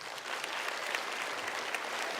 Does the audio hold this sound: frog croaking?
no